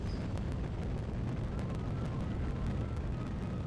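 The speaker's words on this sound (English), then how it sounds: "as this finishes up, we'll fire the AJ-10." Steady, dense low roar of an AJ-10 rocket engine burning continuously in Kerbal Space Program Realism Overhaul, loud and unbroken throughout with no voices.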